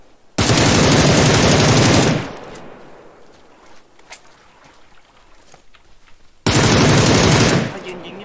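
Two loud, dense bursts of automatic gunfire from a weapon in the battle-royale game PUBG Lite, the first lasting about two seconds and the second starting near the end, with quieter game ambience between them.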